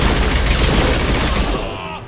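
Dense sustained gunfire in the Mass Effect 2 video game, loud and continuous bursts for about a second and a half before abruptly thinning out, with no speech over it.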